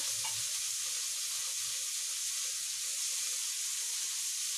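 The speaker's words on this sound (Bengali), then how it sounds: "আমি ভেজে রাখা চিংড়ি মাছগুলো দিয়ে দিয়েছি এবার এটাকে আরও এক মিনিট ধরে কষাবো" Already fried prawns sizzle as they are sautéed in a pan for a Bengali malaikari, producing a constant, even hiss close by with no breaks and no voices.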